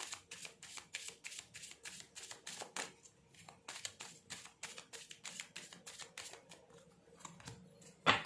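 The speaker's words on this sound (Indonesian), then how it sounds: "silahkan skip ya untuk kocokan kartunya" Tarot cards are shuffled by hand in a quick, even run of soft crisp riffles and flicks, close and fairly quiet, with a brief pause partway through and a sharper tap at the end.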